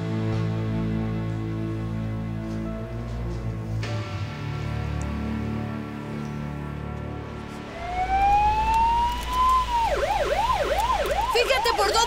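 An ambulance siren wails under a loud, sustained musical drone, then rises into a rapid, repeating yelp that cycles up and down several times, loud and close.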